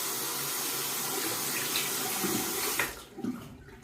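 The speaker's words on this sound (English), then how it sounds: "Let me rinse my hand off" Tap water runs steadily into a bathroom sink as a hand is rinsed off, a continuous close splash that cuts off near the end, leaving a few faint drips and handling sounds.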